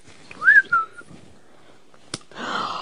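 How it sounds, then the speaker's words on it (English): A short, close whistle rises and then falls in two quick notes, followed by a sharp click and a burst of breathy noise. "Give it a little whistle."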